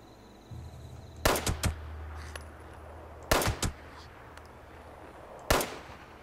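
Gunfire in the Fallout 76 video game comes in three bursts of two or three sharp, loud, close shots, separated by a low ambient rumble; there is no speech.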